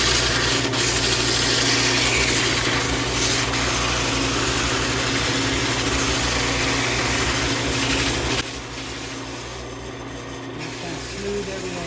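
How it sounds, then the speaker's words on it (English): Sandpaper is held against a walnut muddler spinning on a lathe, creating a loud, steady rubbing hiss over the motor's hum that drops in level near the end. "Here's one of the great cheats in lathing is you basically just get sandpaper. And while it's spinning,"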